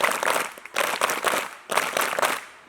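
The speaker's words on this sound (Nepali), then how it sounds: "उहाँहरूलाई जोरदार स्काउट तालीले स्वागत गर्न म अनुरोध गर्न चाहन्छु।" Scouts at a camp graduation ceremony give a rhythmic welcome clap in three sharp, loud bursts of many hands together, with short pauses between them.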